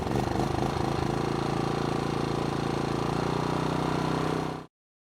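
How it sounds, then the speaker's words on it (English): A BISON generator engine runs with a loud, steady, rough mechanical drone, then stops abruptly near the end. "Start the machine by pressing the starter switch."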